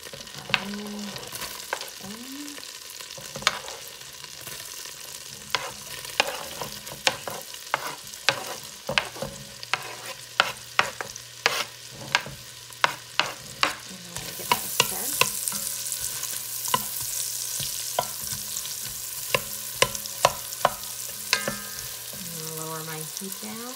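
Onion sautéing in melted butter in a pot, a steady sizzle that grows louder midway, punctuated by regular sharp knocks and scrapes of a spoon stirring against the pot, with no talking.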